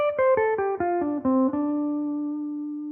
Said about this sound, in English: try adding vibrato to your playing